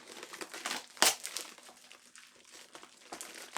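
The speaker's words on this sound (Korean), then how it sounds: "자, 바로 한번 뜯어보도록 할게요." Packaging crinkled and torn open while unboxing a ROGUE lever belt, a close rustling crackle with one sharp rip near the start, then softer crinkles.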